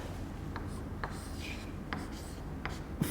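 Pen or pencil writing by hand on paper while working a percentage sum, giving a few faint scratchy strokes spaced through a soft background hiss.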